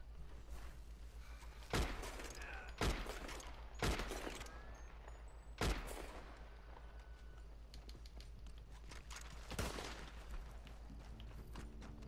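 Incendiary shotgun shells fired in Red Dead Redemption 2 Online, several loud, spaced single blasts standing out over a quiet background of distant shots and ambient noise.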